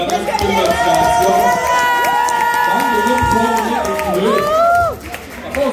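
Crowd at a barbecue competition cheering and shouting loudly and continuously, with whoops over steady music, the noise dropping off near the end.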